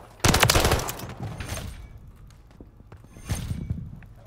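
Gunfire in Call of Duty: Modern Warfare III ranked play, a loud opening burst of rapid shots, scattered lighter reports, then a second burst near the end.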